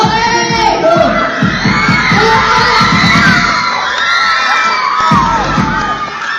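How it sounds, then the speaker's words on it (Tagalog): A large crowd at a pageant walk screams, cheers and shouts loudly and continuously, with high shrill voices and whoops overlapping close by throughout. "grabe ang hiyawan ng mga tao ng si VNC na ang rumampa"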